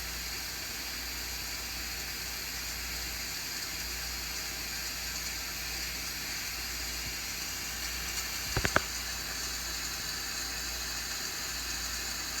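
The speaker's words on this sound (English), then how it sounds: "Really steaming away." A Carey pressure canner processing a meal in a jar gives off a steady, even hiss of steam as it comes up to pressure, with a brief sharp click near the end.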